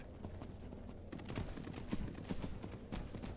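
Horse hooves clip-clopping in Skyrim, a steady run of close, moderately loud hoofbeats in a regular rhythm with no talk over them.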